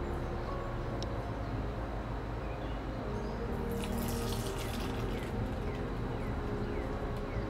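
Vinegar and diluted dish soap pour from a measuring cup for a kids' colorful volcano experiment, a continuous close splashing trickle of liquid that runs steadily throughout.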